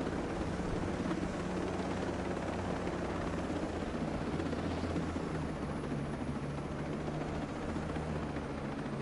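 A helicopter in a video game drones steadily throughout, a continuous rotor thrum and engine roar at moderate level with no talk over it.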